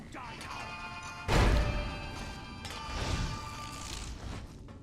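A frag mine blows up in the video game Fallout New Vegas, a sudden loud crashing blast followed by smaller thuds and mechanical clatter amid game sounds.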